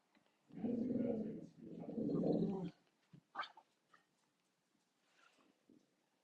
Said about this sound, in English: don't you growl? You can hear my dog.